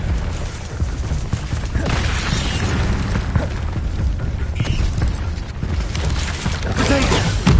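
Spell combat in the Harry Potter video game Hogwarts Legacy: a dense, loud wash of magical bursts, booms and crackling impacts that continues without a break, with sharper pops scattered throughout.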